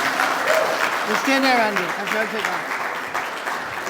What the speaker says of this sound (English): Give a big round of applause to Andrew.